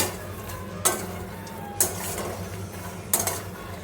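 Makhana (fox nuts) roast in a pan over a low, steady frying hiss, with three distinct metallic scrapes of a spatula stirring them at intervals, close and unaccompanied by talk.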